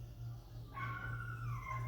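Dogs whine in a rising, drawn-out whimper over a constant low hum. The cry starts partway through and wavers before trailing off.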